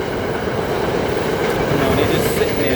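A train rolls past outdoors near geese in a natural setting, a continuous loud rumble with rhythmic wheel clatter and faint squeals, steady throughout with no talk.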